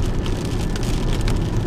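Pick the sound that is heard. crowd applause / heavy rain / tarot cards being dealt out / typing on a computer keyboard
heavy rain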